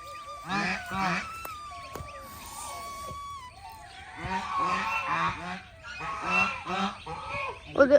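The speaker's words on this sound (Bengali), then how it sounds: "এই যে হাঁসগুলা দৌড়াচ্ছে খাচ্ছে" A flock of ducks runs about a mango orchard garden while feeding, giving repeated loud, nasal honking calls in overlapping bursts close by, and faint background noise continues between them.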